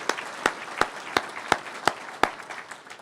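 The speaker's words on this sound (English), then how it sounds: "How about a round of applause for Mr." Sparse applause at a public safety awards ceremony, roughly seven distinct, evenly spaced claps standing out over a thin patter of other hands, fading toward the end.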